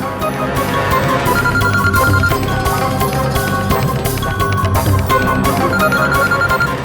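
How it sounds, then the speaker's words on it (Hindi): A telephone rings repeatedly over a loud, dense musical backdrop, the ringing steady and partly blended into the music throughout. "घंटी तो जा रही है, ये फोन क्यों नहीं उठा रही है"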